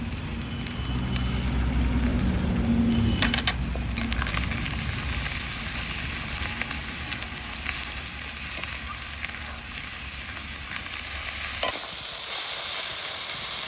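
Dried red chili paste, with a little cumin paste, fries in a pan for a spicy curry, giving a loud, continuous crackling sizzle with stirring noises that eases slightly toward the end; no voices.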